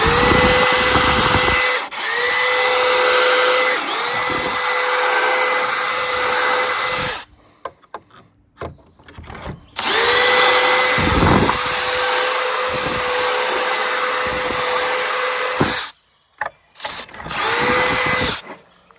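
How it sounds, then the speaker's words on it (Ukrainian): A power drill bores holes into wood with a loud, close whine in two long runs, each dropping in pitch as the bit loads, separated by handling clatter and ending with a shorter burst. "засверлюємо дирочку"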